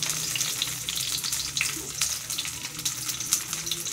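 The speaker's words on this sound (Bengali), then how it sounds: "এখন আমি পনিরটা আবার ভাজা দেব।" Paneer fries in hot oil in a pan, giving a steady, close hiss with scattered crackles and pops throughout.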